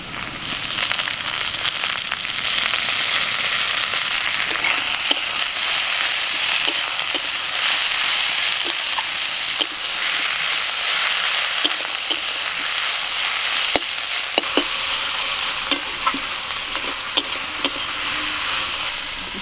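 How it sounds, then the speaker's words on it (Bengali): Potatoes frying with chopped onion and boiled susuni greens in a pan give a dense, steady sizzle for the whole stretch, broken by scattered sharp crackles and stirring clicks, with no talking. "ভাজতে ভাজতে যখন আলুটা আধ ভাজা হয়ে যাবে"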